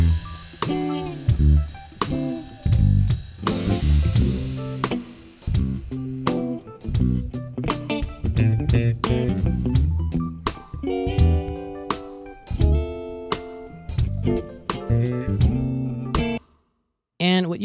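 Electric guitar and bass play a steady rhythmic live-band passage picked up by an overhead drum microphone, with repeated strummed chords, bright sharp attacks and a brief drop to silence near the end.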